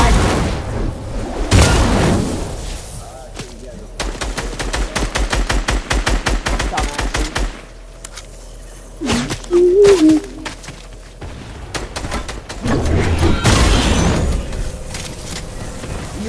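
Video game gunfire in long rapid automatic bursts of loud, close shots, with heavy booms between them and a voice talking in a short pause.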